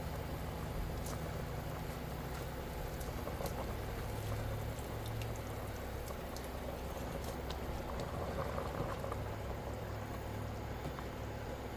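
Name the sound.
water boiling in a pot for sotanghon noodle soup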